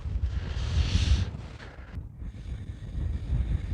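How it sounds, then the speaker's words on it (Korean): Strong wind batters a fishing boat off Masan, producing loud, gusty rumbling buffeting against the microphone, with a brief lull before the blustering picks up again. "바람아 바람아 제발 멈추어다오"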